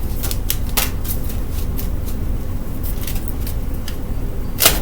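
A deck of tarot-style cards being shuffled by hand, repeated soft riffling and slapping flutters over a steady low rumble of background noise, close and moderately loud.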